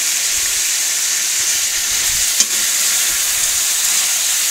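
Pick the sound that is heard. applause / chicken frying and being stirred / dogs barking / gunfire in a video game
chicken frying and being stirred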